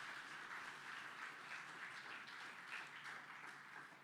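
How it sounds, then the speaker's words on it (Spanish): Congregation applauding at a church service, a steady mid-level wash of clapping across the whole stretch with no voices on top. "Dele el aplauso fuerte al Señor."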